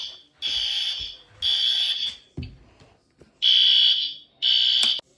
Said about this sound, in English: You have to turn off the fire alarm.